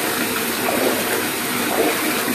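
Water gushes steadily into a bathtub with bubble bath added, a loud and constant rushing that fills the whole short stretch and has no voices.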